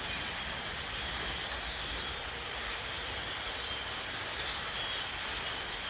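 A large flock of birds lifting off together near a big beech tree, their wings blending into a steady, wind-like rushing that stays evenly loud throughout, with no voices.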